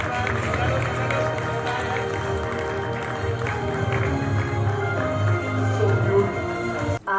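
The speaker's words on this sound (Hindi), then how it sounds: "तालियां तो बनती है।" Audience applause at the 17th NBC Awards ceremony: steady, sustained clapping from a large crowd, loud and continuous, with voices mixed in beneath it before it cuts off near the end.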